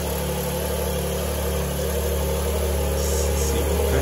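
Porsche 911 engine running steadily near at hand, a continuous low idle-like rumble with slight revving swells throughout, loud and unbroken with no talk over it.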